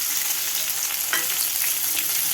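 Chopped tomato with small onions sautéing in a pan for Tamil kovakkai kulambu, a steady close sizzle with light stirring scrapes, no voices.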